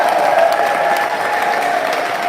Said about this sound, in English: I just want to get a huge round of applause for everyone who has been nominated this year